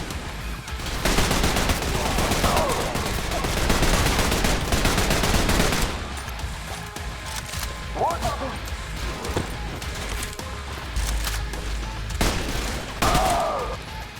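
Heavy machine gun fire from the Trepang2 shooter, loud and sustained bursts at a measured, slower rate of fire, with brief pauses between volleys and a few crashing impacts.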